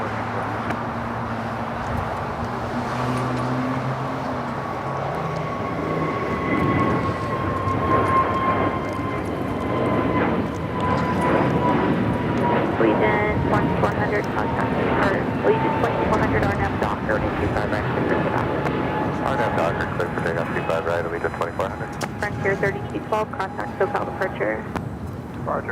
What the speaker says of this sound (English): A350-900 making the left-hand turn onto Bravo as the Asiana A380 makes that final turn